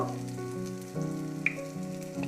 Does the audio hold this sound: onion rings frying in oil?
yes